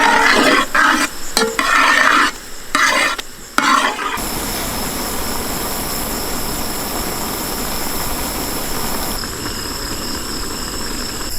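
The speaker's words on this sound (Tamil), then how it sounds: "எண்ணெயில் நல்லா அப்படியே வாசிக்கிட்டுமுக்கா. அது கூட அப்படியே கொஞ்சம் மஞ்சத்தூள் சேர்த்துக்கணுமுக்கா." Banana flower stirred and frying in oil with turmeric and rock salt, with clattering scrapes over the first four seconds, then a steady sizzling hiss that carries on alone to the end.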